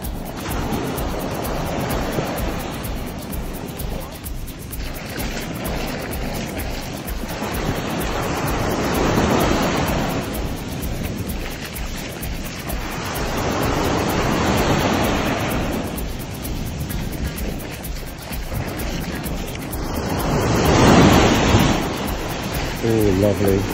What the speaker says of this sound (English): Just listen to those breaking waves.